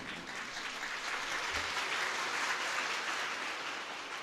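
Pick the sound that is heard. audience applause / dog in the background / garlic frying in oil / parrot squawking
audience applause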